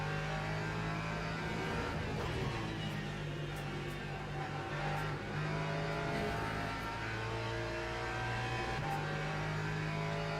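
Hypercars in the Le Mans Ultimate racing game sweep past in a damp session, their engines droning and revving in layered, continuous waves with passes rising and fading, no talk.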